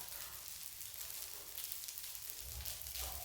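Green curry fried rice is stir-fried in a pan, giving a steady, soft hiss of sizzling with faint tossing and scraping and a slightly fuller rush near the end, with no voices.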